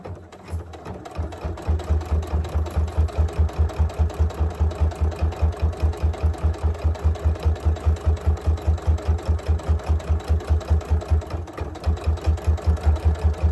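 A sewing machine runs steadily while stitching fabric for a soft glasses case made from leftover scraps, giving a fast, even mechanical chatter that is loud and close and continues throughout without any talking.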